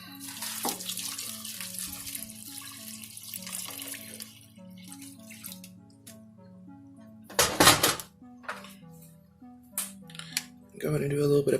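Three cups of water pour into a crock-pot of chicken soup in a kitchen, a splashing rush at first, then a brief second burst. Quiet background tones and a voice are heard between the pours.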